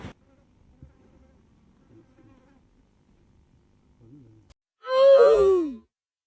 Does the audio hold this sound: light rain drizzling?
no